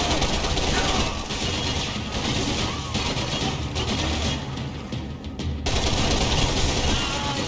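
Sustained gunfire from the video game Max Payne, dense rapid bursts and crackling impacts layered over one another at steady loudness, with a brief dip before the shooting picks up again.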